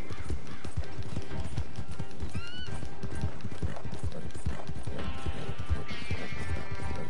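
Horse hooves clip-clop in a fast, steady rhythm while riding in Red Dead Redemption 2, close and loud, with a whinny and some game music over the galloping.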